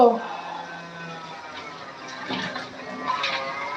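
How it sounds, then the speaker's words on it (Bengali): Tap water running into a sink while hands are washed, a soft, steady splashing stream with a few louder gushes, moderately close, with someone talking over it. "হাত ধুয়ে নিলাম কলে"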